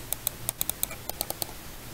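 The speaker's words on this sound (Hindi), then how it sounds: "ये काफ़ी लाउड हैं इसके क्लिक्स" Crisp, loud clicks from an HP M10 computer mouse, about a dozen sharp close-up taps in an uneven rhythm, with no other sound around them.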